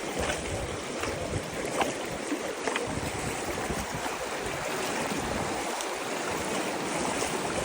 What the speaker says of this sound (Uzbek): Mana soy ekan.